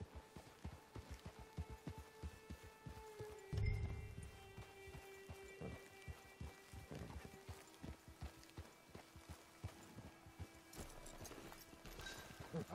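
Steady rhythmic clip-clop of horse hooves at a brisk pace in the video game Red Dead Redemption 2 Online, continuous and fairly faint, with a brief louder thump partway through.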